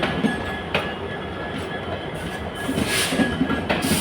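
A special summer express train with blue ICF coaches, running from Sealdah to Guwahati, rumbles past close by with a steady roar, rhythmic wheel clatter and faint squeal.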